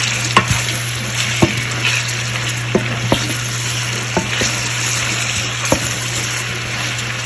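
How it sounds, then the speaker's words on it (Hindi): Onions browning in hot oil, a loud, dense, continuous sizzle and crackle with scattered sharp pops and spoon taps, close up and with no talk. "ऑयल हमारा गर्म हो चुका है तो उसमें हम प्याज डाल देते हैं। और अब जो है प्याज़ों को इसमें ब्राउन करते हैं।"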